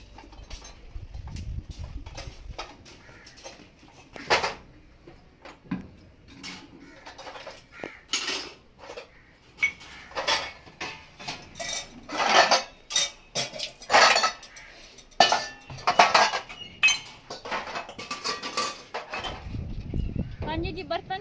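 Dishes, pots and cutlery being washed by hand at home, with scattered metallic clinks, clatters and scraping knocks of varying loudness, heard close by along with occasional talk.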